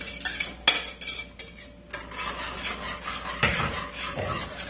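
A utensil stirs a food mixture in a pot, giving close scraping and clinking against the sides, with irregular sharp knocks and rubbing strokes repeating throughout.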